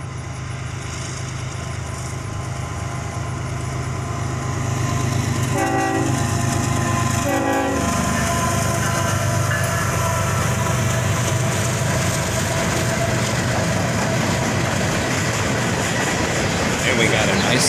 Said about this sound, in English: we got a nice little horn salute from the engineer there, with an ES44 AC leading, followed by a pair of rebuilt AC44 C6Ms